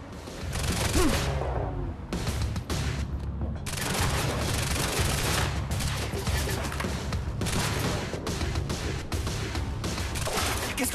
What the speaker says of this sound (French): Alors arrêtez de nous tirer dessus!